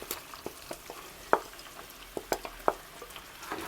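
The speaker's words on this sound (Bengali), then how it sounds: "এবার বেঁচে থাকা গ্রেভিটা এবার দিয়ে দিচ্ছি আমি।" Marinated chicken fries in a pan as leftover gravy goes in and gets stirred, giving a soft steady sizzle broken by sharp scraping clicks of the spoon against the pan, close and fairly quiet.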